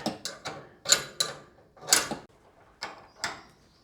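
A ratchet works on bolts inside a cabinet, left short of full torque, in short clicking bursts with gaps between them, close and fairly loud, with no talking.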